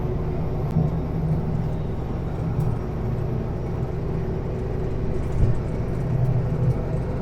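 A truck winds along a curvy road near cliff faces between Dry Falls and Moses Lake, a steady, loud engine and road rumble from inside the cab with no speech.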